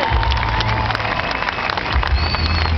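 Outdoors at the Gentse Feesten street festival in Ghent, an audience applauds performers with sustained, fairly close clapping and scattered cheers, with low rumbling thumps underneath.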